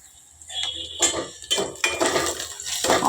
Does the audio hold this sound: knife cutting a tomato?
yes